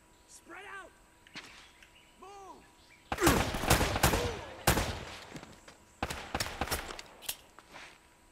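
Gunfire in Uncharted: Drake's Fortune cracks out in sharp bursts of several rapid shots, loud and close, separated by quieter gaps with scattered single pops and faint whistling sounds.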